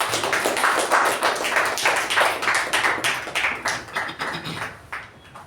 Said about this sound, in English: Please welcome Toastmaster Raja with a huge round of applause.